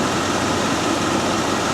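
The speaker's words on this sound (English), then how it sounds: "while the engine's running" The engine of a 1998 Bentley Brooklands R runs with a fuelling fault that makes it flip to full rich, a steady, even idle hum with a low rumble and no talk.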